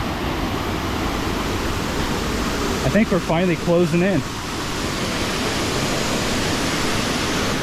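The Bang Pae waterfall and river in Phuket rush as a steady, broadband roar that fills the whole scene, with a man's brief speech over it partway through.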